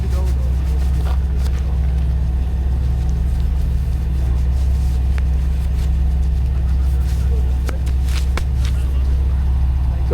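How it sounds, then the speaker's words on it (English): A steady low engine rumble and road drone fill the cabin of a Dodge Charger on a cold-weather test drive, with a few faint clicks and some talking over it. "So here we go for our test drive with the Dodge Charger."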